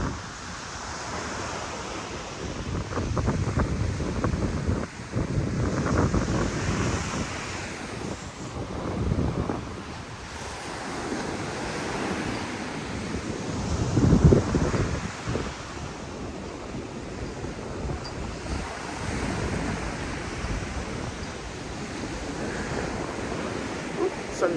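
Ocean surf washing onto the sand at Puno Beach in Cancun, a steady broadband rush with swells every few seconds, mixed with gusty wind buffeting the microphone.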